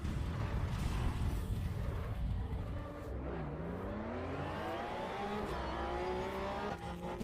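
A race car engine in the racing video game Assetto Corsa EVO runs after a mid-race fault. The engine drones loud and rough while its pitch sweeps upward through the gears, and a sharp transient cuts in near the end.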